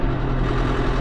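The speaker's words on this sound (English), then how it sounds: "Putting the loader tractor in the building here so that way it is out of the weather" A loader tractor's engine runs nearby, giving a loud, steady low rumble with a throbbing, even pulse across the whole short stretch, with no talking.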